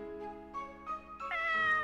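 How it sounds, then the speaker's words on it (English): A cat meows in the video game Corpse Party: Book of Shadows. It gives a few soft, short meows in quick succession, quiet and clear with no talking. "Oh, the cat! Hi, little cat!"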